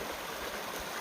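A creek on the Appalachian Trail near Gooch Gap flows in a steady, broad rushing wash, close and continuous with no breaks or voices.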